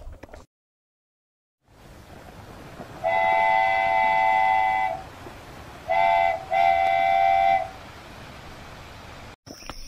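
The Howrah Mail passenger train runs with a steady rolling rumble. Two bursts of a loud, tonal horn sound over it, one long blast followed by a short and a long one, after a brief silent gap at the start.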